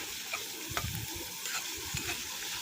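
Amaranth leaves are stir-fried in a tempering of onion, dry chilli, garlic and cumin, a gentle continuous sizzle broken by several scraping stirs of a spatula, close and quiet, with no talk.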